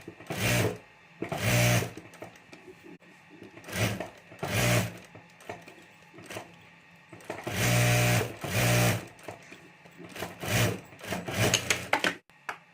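A sewing machine stitches around the edges of a homemade pencil pouch with its lining, running in several loud close bursts separated by short pauses.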